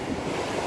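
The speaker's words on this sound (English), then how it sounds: "God, I hope the waves go down." Ocean surf churns on a beach lashed by gale-force winds, a steady broadband roar of breaking waves and wind buffeting the microphone, loud and continuous with no voices.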